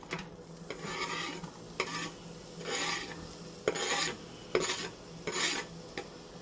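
Onions sauté in a pan while a utensil scrapes and stirs them in repeated strokes, with soft sizzling between the stirs and an occasional clink against the pan, close and quiet, no talking.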